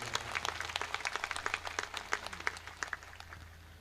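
Quiet, scattered clapping from an audience as a tribute during a singer's stage programme, irregular claps in a soft, slightly distant patter over a low steady hum.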